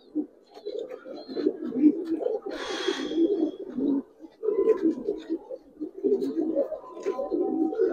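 Giribaz pigeons coo in low, throaty, repeated phrases close by as a female pigeon is let go, with a brief flutter of wings in the middle.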